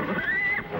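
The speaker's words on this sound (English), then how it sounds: "The horses, they're getting away." A horse whinnies once, a rising then falling high-pitched neigh lasting under a second, fairly close.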